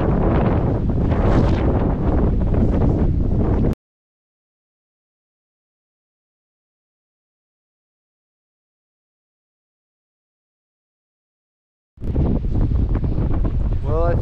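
Strong wind buffets the microphone on a mountain section of the Appalachian Trail in December, a loud, rough roar that cuts out abruptly, leaving several seconds of silence before the gusting returns.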